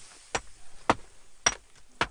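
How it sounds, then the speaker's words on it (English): Four sharp metallic hammer blows ring out at an even pace as a Viking-age iron bloom is forged into a solid metal block, each strike a short, bright clank. "That's them actually hammering on what's becoming a solid metal block."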